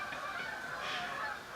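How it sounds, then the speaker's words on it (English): Geese honking at a moderate distance, a continuous overlapping chorus of nasal calls over steady background noise, with no talk. "It would be geese."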